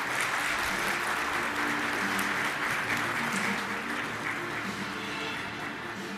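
An audience at a Turkish stock-exchange gong ceremony for Hitit Computer Services applauds as the company chairman is invited on stage, a full sustained round of clapping that eases slightly toward the end.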